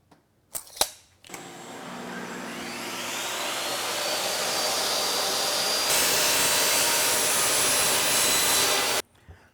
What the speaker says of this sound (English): we're going to cut our plywood to size.